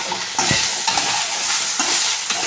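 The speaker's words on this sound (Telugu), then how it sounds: "అలాగే ఆయిల్ వేసుకోవాలి ఇక్కడ ఒకసారి అన్నీ కలుపుకోవాలి" Okra frying in hot oil for a chutney gives a loud, continuous sizzle close by, broken by repeated scraping stirs of a spoon in the pan.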